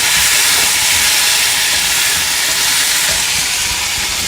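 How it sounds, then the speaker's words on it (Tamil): Tomatoes, red chillies and spices sautéing in a pan for a peanut cluster beans gravy, a steady loud sizzle and hiss that runs unbroken, with no talk. "எல்லாத்தையும் சேர்த்து பச்சை வாசனை போகிற வரைக்கும் நல்லா வதக்கிடலாம்."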